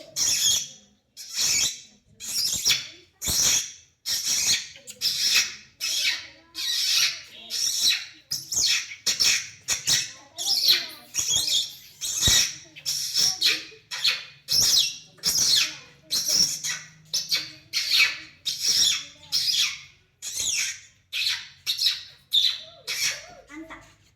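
A voice imitates birds with a long run of sharp, shrill squawks, repeated in quick rhythmic bursts for over twenty seconds, close and loud.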